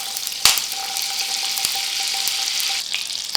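Two tablespoons of oil and two teaspoons of butter sizzling in a hot pan, a steady close frying hiss with a sharp crackle near the start and another near the end.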